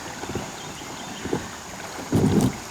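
A kayak pulled along a shallow river scrapes its hull over the bottom in a short, gritty burst near the end, over steady wind buffeting and faint water noise.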